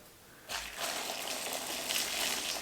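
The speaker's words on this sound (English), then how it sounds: "Okay, let me get the water. Pour over them." Boiling water poured from a kettle over scored chestnuts in a heat-proof bowl makes a steady, close gushing splash that starts abruptly and runs on without a break, with no talk over it.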